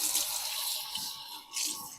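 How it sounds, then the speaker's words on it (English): Kitchen tap running water into a sink while a whole chicken is rinsed, a steady soft hiss and splash with slight shifts in the flow, fairly quiet and alone. "So what I do is turn on the water"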